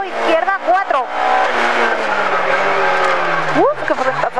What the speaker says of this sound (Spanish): ¡Qué frenazo hay ahí!